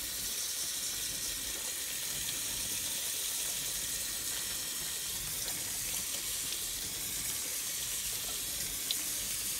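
Tap water runs steadily over a hot pressure cooker in a sink to cool it, a constant even hiss and splash with no pauses, moderately quiet.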